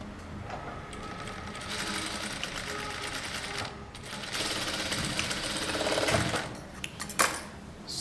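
A sewing machine stitches boat-neck kurta fabric in bursts of rapid mechanical chatter, starting and stopping several times, close and clear with a few handling clicks near the end.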